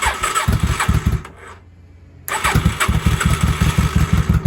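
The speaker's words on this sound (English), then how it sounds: "But she's running on starting fluid" A 1983 Honda Shadow VT750C motorcycle engine running on starting fluid, with a rapid low thumping idle that dies out for about a second, then catches again and keeps pulsing steadily, close and loud.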